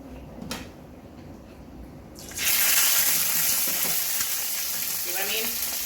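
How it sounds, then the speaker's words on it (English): Chilies dropped into hot oil for tamale peppers burst into loud, steady frying and splattering after a quiet start, sustaining a dense crackling sizzle to the end. "when you add your chilies to your oil, to your hot oil, cover them immediately"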